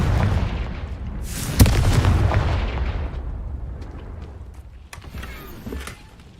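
The Confringo explosion spell in Hogwarts Legacy goes off with a single loud boom and crackling blast that slowly fades, followed by a few fainter pops and clicks near the end.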